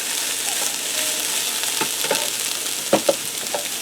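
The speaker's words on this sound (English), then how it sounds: "I'm just going to give that a stir to get them mixed into the carrots" Broccoli and carrots sizzle in a pan for a chicken stir fry, a soft steady frying hiss broken by a few scrapes and two sharper clacks of the utensil stirring them together.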